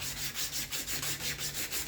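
A cattle or buffalo horn knife handle is hand sanded for fine finishing, giving steady rhythmic back-and-forth rasping strokes, close and fairly quiet, with no voices.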